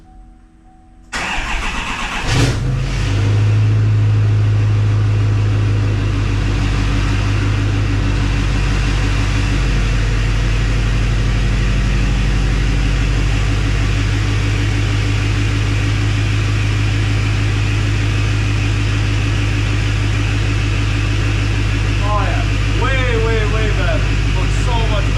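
A truck engine turns over and then runs with a loud, steady low rumble and hum while the pickup is shifted into reverse, continuing unchanged for about twenty seconds with no voices.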